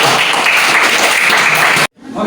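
Students in a classroom clap together in a loud, dense burst of applause that cuts off abruptly near the end, followed by a faint trace of room sound.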